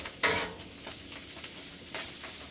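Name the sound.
vegetables sizzling while caramelizing in pan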